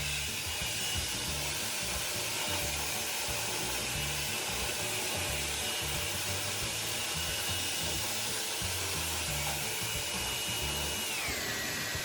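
A handheld hair dryer blows steadily on someone's hair, a continuous close, loud whooshing roar that holds level and shifts slightly in pitch near the end.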